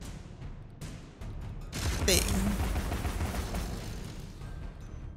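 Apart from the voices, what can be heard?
cannon crab firing its cannon, video game Alice Madness Returns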